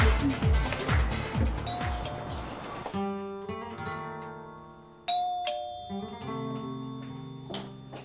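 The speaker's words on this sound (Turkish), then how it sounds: "Zili çalıyorum." A chiming doorbell pressed at the door of a pajama party, ringing in two bursts: a rapid run of bright repeated tones that gives way to a slower, ringing ding-dong melody, close and clear.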